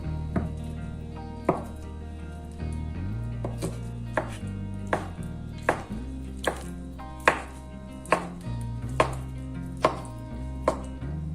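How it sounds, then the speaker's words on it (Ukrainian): A knife chops finely through boiled egg white on a board in a home kitchen, with evenly spaced crisp taps in a steady rhythm, close and clear over a low background hum. "білок дрібно нарізаємо"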